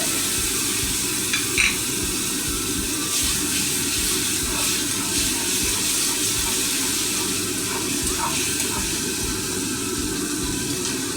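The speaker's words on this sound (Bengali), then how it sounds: "আর টমেটোটা দিয়ে আমি যে আদার লঙ্কার পেস্টটা করছিলাম ওটা দেবো" Ginger-chili paste and tomato sizzle in a hot pan as they are stirred, a dense continuous frying hiss with faint scraping, close and steady with no talk.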